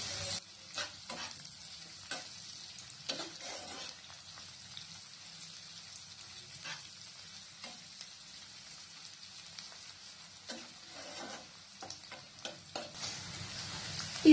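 Onions fry in oil in a pan for malai chicken, with a soft, steady sizzle broken by irregular scraping and tapping as a spoon stirs them, close and fairly quiet, with no talking.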